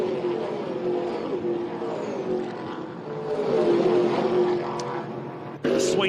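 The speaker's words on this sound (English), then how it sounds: "The sweet sounds of TA2 muscle cars on the Hi-Tec Oils main straight." TA2 muscle cars roar along the main straight at Winton Motor Raceway during a Hi-Tec Oils Super Series race, a steady loud engine drone that swells as they pass, ending in a sharp burst.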